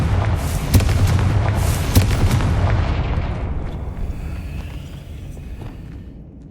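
A Confringo spell in Hogwarts Legacy goes off as a loud, close blast with a deep rumbling boom and sharp cracks, then rolls away into a fading, drawn-out tail of debris and echo.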